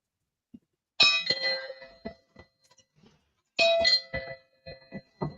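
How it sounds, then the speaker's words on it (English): A doorbell chimes indoors in two separate bursts, each a bright ringing tone with lingering ring-out, loud and close, with short quiet gaps between. "Oh, that's our doorbell."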